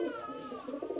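Pigeons coo softly in a continuous low murmur, faint and somewhat distant, with no voices over it.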